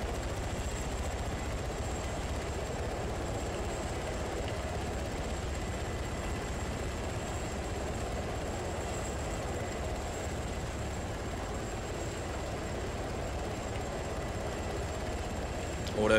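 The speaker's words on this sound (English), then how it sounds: "Takes a while to spin up on the RHS helicopters." RHS helicopter in ARMA 3 spinning up its rotor, a steady low mechanical drone with a constant high whine, moderately loud and unchanging throughout.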